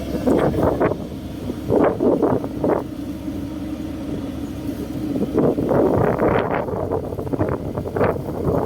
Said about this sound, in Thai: โอ้ลมแรงมากครับผม